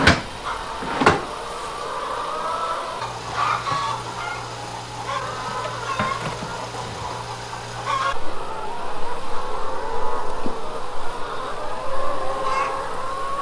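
Farm chickens cluck and murmur at low level beside a clattering bang and scraping noises, with the birds' calls continuing in the background.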